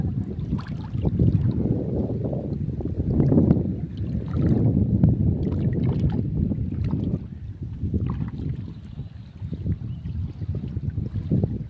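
Steady wind gusts across a choppy Sundarbans river, a low rumbling rush with waves lapping near a small fishing boat, no voices.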